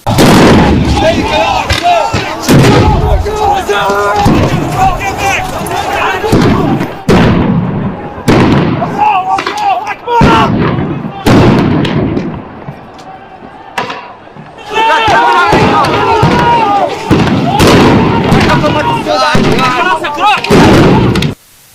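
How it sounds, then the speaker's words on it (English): Repeated sharp bursts of gunfire crack through a long, loud stretch in Baghdad, between pro-Iran protesters and Iraqi security forces, with dense chaotic noise and voices shouting underneath. "showing what the gunfire looked like between the pro-Iran protesters and Iraqi security forces"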